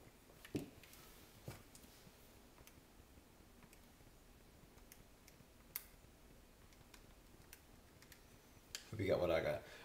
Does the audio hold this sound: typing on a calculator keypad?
yes